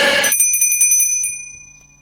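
A bright notification bell rings once with a sharp metallic ding, then a shimmering tone that fades over about two seconds, heard alone.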